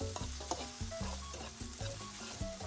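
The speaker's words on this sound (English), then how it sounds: "you're just gonna let that saute in the butter for a little bit" Food sautéing in butter in a pan for a single serving of Olive Garden-style chicken fettuccine Alfredo, a steady close sizzle with repeated stirring scrapes and soft clinks.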